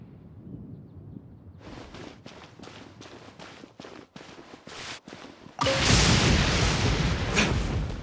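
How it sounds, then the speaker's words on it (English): Thunder in the video game Genshin Impact: a series of rumbling booms and cracks, then a loud sustained roll of thunder that stays heavy to the end. "Paimon hears thunder!"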